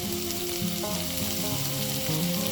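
A ground ginger, cumin and garlic spice paste with salt and turmeric fries in a pan, giving a continuous close sizzle with low scraping as it is stirred and no talk.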